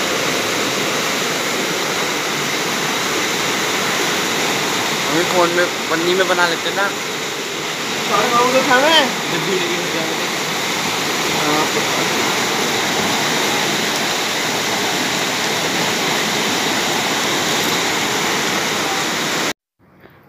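Rainwater rushes through an overflowing roadside drain in front of a house, a steady loud broadband roar of running water that continues throughout, with a voice briefly talking over it.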